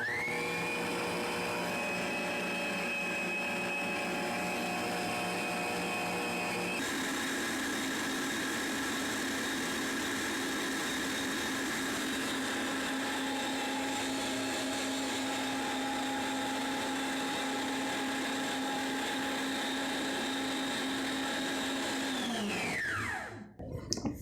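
An electric mixer beats a thick, dense cream for a Brazilian pão de mel iced cake, a steady loud whirring drone that runs unbroken for about twenty-three seconds, then winds down and stops.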